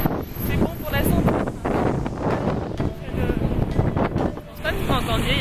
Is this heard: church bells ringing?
no